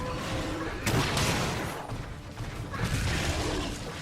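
Crag shots fired from a bowgun in the video game Monster Hunter 3 Ultimate: dense, loud, overlapping bursts of gunfire-like blasts and mechanical clatter filling the whole stretch.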